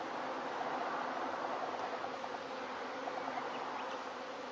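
Dense, steady buzzing of many bees flying close around a Tanzanian top bar hive during a colony transfer, a continuous insect drone with no talk.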